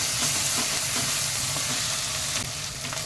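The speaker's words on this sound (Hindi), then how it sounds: "अब हम इसमें अदरक लहसुन डाल देंगे।" Ginger and garlic sizzle and fry with browned onions in a pan on a stovetop, a steady close crackling hiss that carries on without pause for about three seconds, with no voices.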